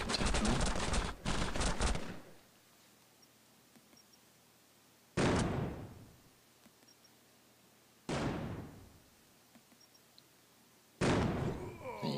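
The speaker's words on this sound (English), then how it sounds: "Now you can either spend time shooting this guy with any action points you've got left." Gunfire in the turn-based mobile game Hunters 2 comes as a long rapid burst, then three separate loud volleys, each decaying into a quiet game background between them.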